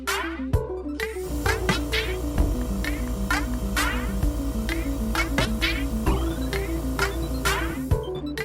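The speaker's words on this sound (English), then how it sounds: "I'm gonna activate the vacuum." A vacuum pump runs with a steady mechanical hum and low drone throughout, overlaid by periodic clicks and short hissing bursts, close and continuous with no talking, while casting a watch movement in resin.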